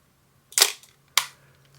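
Two crisp, close clicks from a Pentax ME 35mm film camera shutter, spaced about half a second apart, each a sharp snap with a brief mechanical tail against a quiet background.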